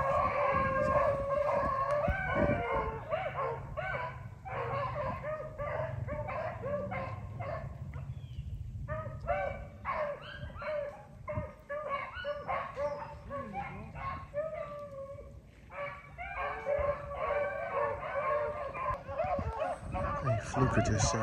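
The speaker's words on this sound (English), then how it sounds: "listening to some dogs running" Several beagles bark and bay repeatedly while running swamp rabbits, an excited, uneven chorus outdoors, with people talking now and then underneath.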